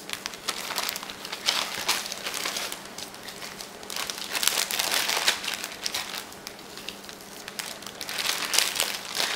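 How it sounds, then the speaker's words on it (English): A big plastic Ziploc bag crinkles and rustles steadily as salmon fillets are slipped inside for a marinade, close and fairly loud, with no talking. "you're going to take another big Ziploc baggie, and we're going to put our fish in here"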